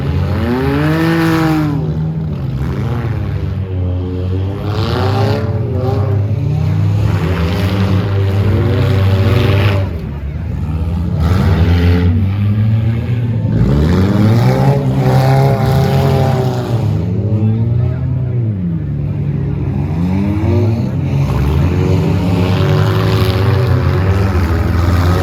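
Racing cars with big 4-cylinder engines run on a watered track. Several engines rev loud and close throughout, their pitch repeatedly climbing and falling as they accelerate, lift off and pass.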